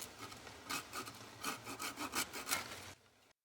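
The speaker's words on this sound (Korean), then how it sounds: "톱을 사용해 가지를 잘라주면 끝부분까지 매끄럽게 자를 수 있습니다." A hand saw cuts through a citrus tree branch during grafting, with about a dozen rhythmic back-and-forth rasping strokes that are close and fairly loud, then stop abruptly.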